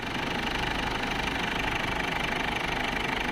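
A Ford Everest engine runs close by just after starting, a steady loud idle with an even rumbling throb and no pauses or voices.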